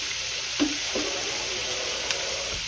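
Shrimp sizzling on an outdoor grill, a constant hissing sizzle with a few faint clicks and taps.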